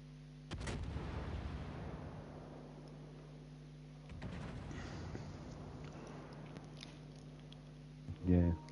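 Heavy naval gunfire from warships in the online game World of Warships, with a booming volley and a second burst a few seconds later over a steady engine and sea rumble, voices talking through it, and a short loud thump near the end.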